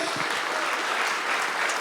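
An audience at an international church gathering claps continuously, a thick, even roar of applause filling the short stretch with no break.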